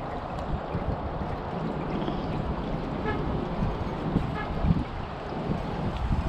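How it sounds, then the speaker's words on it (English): Strong gusty wind blowing outdoors past whipping flags, a dense low rumbling buffet against the microphone that continues without a break. "It's too windy."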